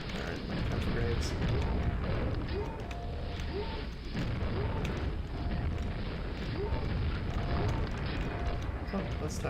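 Grenade blasts in the game Quake, a dense, continuous roar of booming explosions and rumbling chaos filling the whole span, loud and close, with a voice speaking over it.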